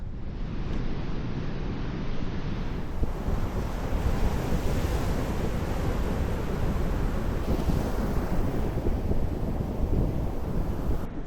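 Sea waves wash continuously against the shore at night, a broad steady roar of surf mixed with gusty wind buffeting the microphone, with no voices.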